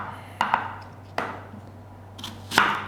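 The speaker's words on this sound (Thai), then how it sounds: "ผมแนะนำว่า เราก็ควรเอามาหั่น" A knife cuts a green apple on a board for a Hurom juicer recipe, with three or four sharp separate chops spaced irregularly and heard close with no speech.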